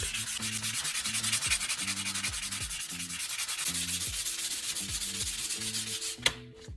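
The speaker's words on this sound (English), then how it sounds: "Begin sanding along the length of the blade." Steady rhythmic scraping of sandpaper rubbing back and forth along a metal handsaw blade, with a faint click near the end.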